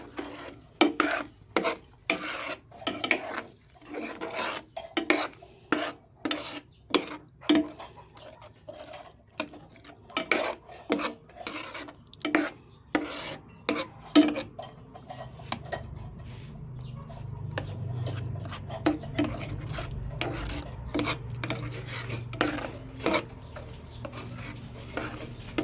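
Milk being stirred in a pan while cooking makapuno, with close, rhythmic scraping strokes of a spoon for about fifteen seconds, then a low steady simmer as stirring slows.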